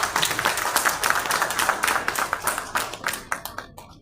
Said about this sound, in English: A big round of applause for all our customers here